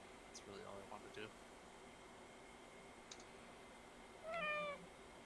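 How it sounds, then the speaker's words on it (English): A cat close to the microphone lets out a drawn-out meow near the end, with a softer earlier meow and faint clicks over steady air-conditioner hum, and a voice faintly in the background. "I heard a cat."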